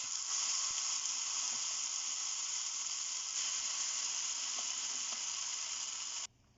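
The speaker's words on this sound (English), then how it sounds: "After adding kothmir pachadi into the pan, we need to stir it carefully and we need to fry it for 1 minute" Coriander tomato chutney (kothimeera pachadi) with urad dal fries in a pan, giving a steady, even sizzle that holds for several seconds before cutting off abruptly, with faint stirring ticks and no talk.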